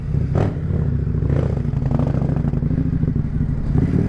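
A 2025 Indian Scout 101 motorcycle idles loud and steady up close, its deep, even engine rumble continuing throughout with a slight rev swell near the start.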